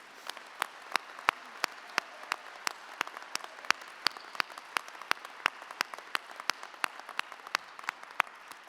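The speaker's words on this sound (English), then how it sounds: "Can you give them a round of applause?" Sparse, evenly spaced claps ring out at an Ithaca College December commencement ceremony, sharp and fairly quiet, like a small number of people clapping in a large space with a low background hush.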